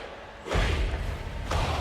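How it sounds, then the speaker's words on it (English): Explosions in a Captain America: Civil War trailer, two deep booming blasts with heavy low rumble, the first longer and sustained, the second shorter, moderately loud with no talk over them. "Lots of explosions."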